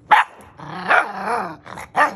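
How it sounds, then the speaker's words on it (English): A pointing dog in training barks and growls at another dog nearby, giving a short sharp bark followed by drawn-out growling barks and a final bark, close and loud, with no talk. "She's barking at another dog that's laying on place"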